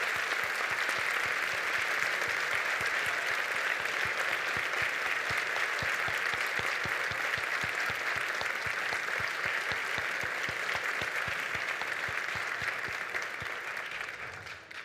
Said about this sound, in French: j'aimerais ça qu'on vous donne, à vous, une main d'applaudissement en reconnaissance de ce soutien